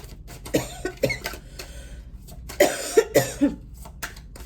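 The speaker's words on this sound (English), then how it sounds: "It's no coincidence that I'm coughing out of nowhere." Several coughs in two bursts, a pair early on and a quicker cluster of three or four later, close and fairly loud.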